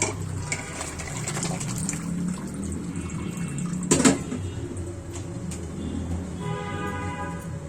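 Broth is poured into a pot of beef and papaya curry with a continuous close liquid pour and a brief louder clunk partway through.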